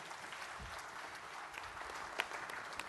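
Faint, distant audience applause fills the hall at the Sri Lanka Engineering Excellence Awards 2014 night, a steady wash of clapping with one sharper clap standing out.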